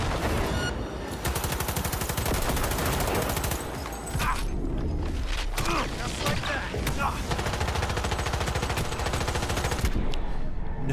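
Gunfire in a Cyberpunk 2077 firefight, with rapid automatic bursts rattling in long strings, broken by brief pauses and a few heavier shots, loud and close throughout.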